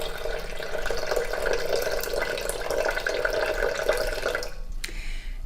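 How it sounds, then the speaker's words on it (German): White wine vinegar pours from a container into orange juice for an orange-thyme vinaigrette, a steady close liquid stream that stops abruptly near the end with a small clink. "Jetzt füllen wir 100 Milliliter Weißweinessig zu dem Orangensaft."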